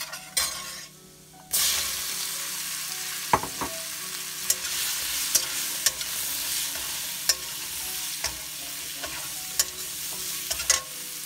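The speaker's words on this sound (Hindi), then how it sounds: "रेड चिली पाउडर धनिया पाउडर और अब हम कैप्सिकम को मिला" Capsicum stirred into red chili and coriander powder frying in a pan for a potato and capsicum sabzi, steady sizzle with scattered scraping clicks of the spoon, close and alone.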